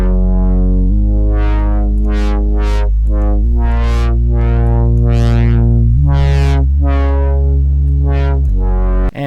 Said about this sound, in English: So basically all that's doing is randomizing the cutoff of the low pass filter.